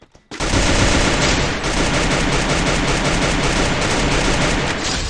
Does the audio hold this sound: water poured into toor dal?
no